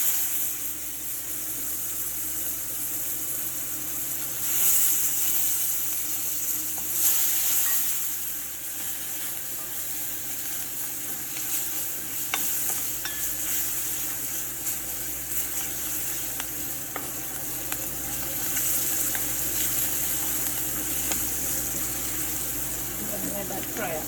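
Onions and pimento fry with curry powder for curried saime with potato, making a steady, moderate sizzle that runs throughout while a voice talks over it.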